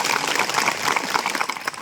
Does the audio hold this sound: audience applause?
yes